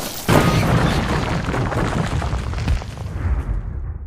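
A car crash impact sound effect: a sudden heavy thud and boom at the start, followed by a dense, loud rumble and clatter that slowly fades over several seconds, with no voices.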